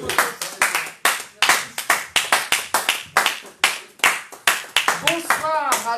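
A church congregation claps hard and fast in uneven bursts to acclaim the Lord, loud and close, with a voice rising briefly near the end.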